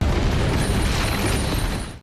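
A loud, dense roaring blast fills two seconds with crackling, booming noise before cutting off abruptly, an explosion in the animated series Soul Land 2.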